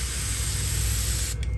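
Paint spray gun hissing steadily, loaded for a custom painting job, a continuous close airy spray that cuts off briefly near the end.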